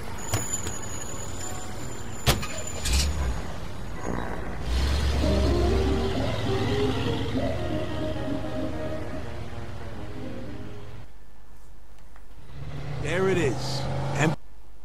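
Car engine in the World War II-era video game Mafia 2, a low rumble that rises and revs as the vehicle drives off, with mechanical clunks and brief quiet gaps and a hiss near the end.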